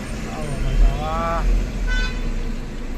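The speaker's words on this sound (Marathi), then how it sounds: "लगेच हॉर्न मारायला सुरुवात" Car horn honks sound around a CNG taxi over steady street noise, a couple of short toots standing out from the rumble of traffic.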